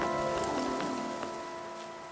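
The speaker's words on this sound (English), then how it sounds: "Miss Sway, you were the one who got caught in the rain." Dense, even patter of rain falling in the game Infinity Nikki, steady and moderately loud throughout with a soft musical drone beneath, no talking.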